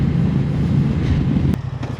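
A single sharp clunk from a 2025 Moto Guzzi Stelvio shifting gear, cutting through the steady low rumble of the idling engine near the end.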